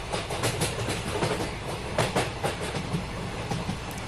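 A train rolls across the Vijayawada railway bridge over the Krishna river, a steady loud rumble of wheels with rhythmic clickety-clack beats over the rails, heard from inside the carriage without talk.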